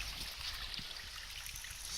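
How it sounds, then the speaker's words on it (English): Clean mountain stream water flowing over rocks in the Smoky Mountains in April, a steady, soft rushing and trickling wash heard at low level with no voices. "It's all good, clean water coming down through here"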